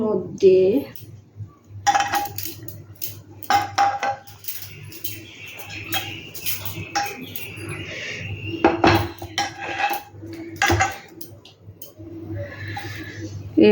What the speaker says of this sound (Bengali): এখানে দেখো আমি আরেকটা কড়াই বসিয়ে দিলাম ননস্টিকের।